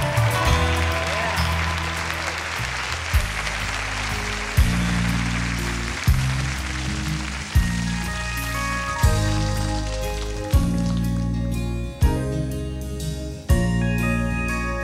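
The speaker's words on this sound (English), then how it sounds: "Give Him a hand clap of praise." A church audience applauds in praise, a continuous wash of clapping that swells with several renewed bursts, heard under loud organ and band music.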